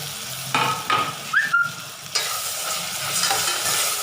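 Tomatoes hit hot oil with ginger garlic paste in a home kitchen pan, giving a steady close sizzle with a few stirring scrapes and brief clinks, no talking.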